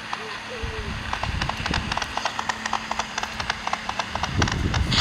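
Donkey hooves clop in a quick, steady rhythm in the Survivalcraft video game, fairly faint under a noisy background, while a person talks over them.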